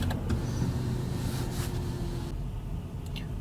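A Toyota bZ electric car is switched off after a 25-hour cold soak: a steady interior whir and hum runs, then cuts out partway, leaving a quieter cabin with a couple of soft clicks.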